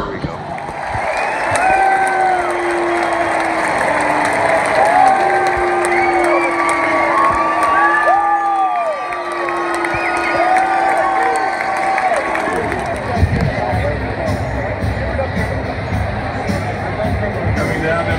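Crowd cheering and shouting at a race in Oakland, a dense steady roar with whoops and raised voices rising and falling for the whole stretch, with an announcer's voice cutting through at times.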